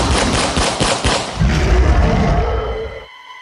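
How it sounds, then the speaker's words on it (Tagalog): Gunshots ring out in rapid succession, a loud burst of sharp cracks that gives way to a heavier rumbling volley before cutting off abruptly. "biglang pumailan lang ang magkakasunod na putok ng baril"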